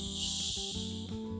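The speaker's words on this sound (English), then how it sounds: "That's all of the fizz from the Diet Coke" Diet Coke fizzing in a Coke and Mentos science experiment, a steady bright carbonated hiss lasting the whole moment, fairly close, with faint low background tones beneath and no talking.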